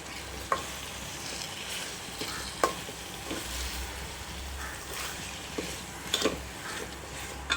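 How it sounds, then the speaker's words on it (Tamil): Chicken simmers in salted gravy for biryani in a pan while a utensil stirs it, a soft steady sizzle broken by scattered scrapes and clinks of the spoon against the metal. "உப்பு போட்டு நல்லா கிளறி விட்டுப்போம்."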